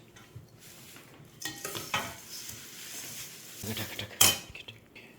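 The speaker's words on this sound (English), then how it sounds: "Okay, now mix it." Puffed rice for charmuri, a street-food snack, is stirred in a bowl, giving soft rustling and scraping with a spoon against the dish and a sharper clink near the end. It is close and moderately quiet.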